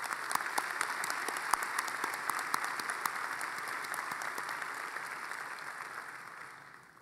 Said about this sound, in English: Let's extend a big round of applause to family and friends